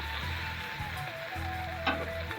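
Food frying in a pan in a home kitchen, a steady soft sizzle running through the clip with faint clinks of stirring.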